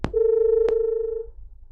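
A telephone line goes dead after a call drops, leaving a loud, steady, clean tone that runs for just over a second, bracketed by two sharp clicks, then fades out.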